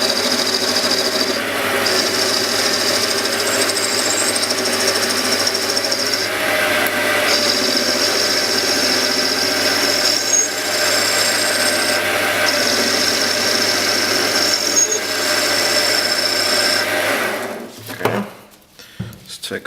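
A metal lathe turns a bicycle rear axle, a steady close whine with a continuous high tonal ring and machine hum, small cutting changes along the way, then the spindle winds down and stops near the end.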